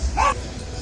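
A single short dog bark, fairly close, followed by quiet.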